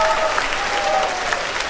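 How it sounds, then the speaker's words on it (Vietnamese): Audience at a live Vietnamese comedy stage show bursts into steady, sustained applause for a singer, dense clapping filling the whole moment with a few faint voices beneath. "Xin quý vị cho một tràng pháo tay cho em sung lên."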